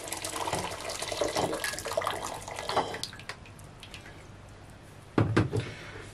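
Water poured from a tap into a pot for sugar syrup, a steady loud splashing rush for about three seconds that then tapers off, followed by a short louder burst of splashing.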